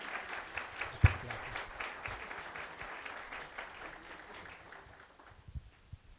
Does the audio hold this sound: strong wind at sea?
no